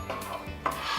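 A spoon scrapes and stirs a vegan meatball mixture with breadcrumbs and vegan cheese in a pan, heat off; two or three short, close scraping and clinking strokes against the pan surface.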